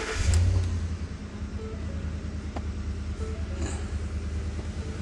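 A truck engine idles steadily with a low, continuous rumble throughout, the hum holding even with small swells and one brief thump near the start; no voices.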